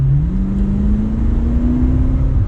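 A 2022 BMW M8 Competition Gran Coupe accelerates gently in normal mode with its quiet exhaust, giving a steady, muted engine drone whose pitch rises smoothly over a couple of seconds, close and continuous.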